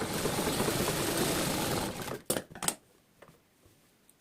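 A sewing machine runs steadily while top-stitching a sleeve, a dense continuous whir for about two seconds that stops, followed by a few sharp clicks and handling knocks, with no talk.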